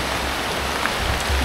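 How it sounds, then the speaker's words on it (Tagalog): Heavy rain in Mindanao pours down in a dense, steady hiss that stays loud and even throughout. "Ang lakas na ng ulan."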